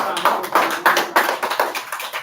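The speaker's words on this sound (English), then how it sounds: "applause one more time" A classroom audience claps in quick bursts, loud and close, the slaps bunching into an uneven rhythm that rises and falls across a couple of seconds with no talk over it.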